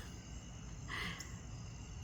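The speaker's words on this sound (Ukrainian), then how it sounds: "цвіркуни" Crickets chirp faintly in the evening grass and trees at an outdoor picnic, with thin sustained tones and one brief chirp standing out over quiet background hiss.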